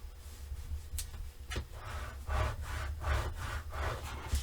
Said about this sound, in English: I'm burnishing as I go.